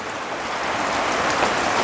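Steady rain pattering on a surface, dense and close, a continuous hiss without pauses.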